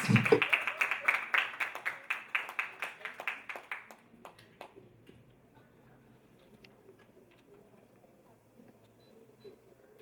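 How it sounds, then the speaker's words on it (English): Applause from an audience at a wellness morning event on menopause, loud at first and then thinning to a few scattered claps that fade within about four seconds, leaving a quiet hall. "Please give her a round of applause."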